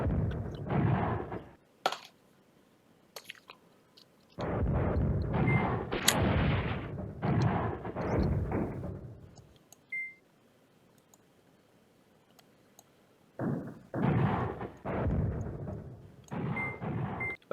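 Artillery fire in the war game Command Ops 2 during a rearguard battle in the Elasson foothills. Clusters of heavy rumbling booms roll out in long bursts, separated by quiet gaps with a few faint beeps.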